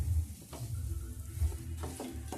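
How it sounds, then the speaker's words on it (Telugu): Semolina roasting in a pan for rava kesari, stirred with a spoon so a few soft scrapes come through over a low, steady frying hiss close by; no voices. "తీసేసి అందులోనే ఈ రవ్వ కూడా పోసేసి ఏం చేద్దాం."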